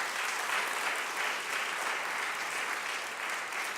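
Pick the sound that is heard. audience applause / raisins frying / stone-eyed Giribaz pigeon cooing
audience applause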